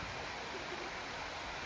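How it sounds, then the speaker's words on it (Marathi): Heavy rain pours over a waterlogged farm field with standing water. It makes a dense, even, rushing wash that stays constant and close throughout, with no voices. "भरपूर जोरात पाऊस आहे."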